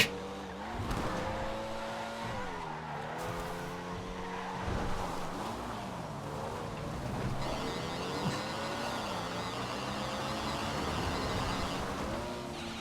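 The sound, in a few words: Shafter GTR car driving in GTA video game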